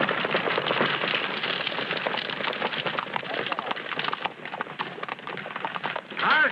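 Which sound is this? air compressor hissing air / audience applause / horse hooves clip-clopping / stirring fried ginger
horse hooves clip-clopping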